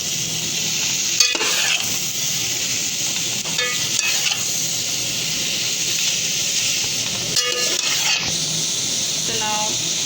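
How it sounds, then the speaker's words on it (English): Whole cabbage is mixed in a cooking pan over a steady frying hiss, with several distinct scraping strokes of the stirring spoon spaced a few seconds apart. "So now here I'm adding the whole cabbage. Now we will mix it."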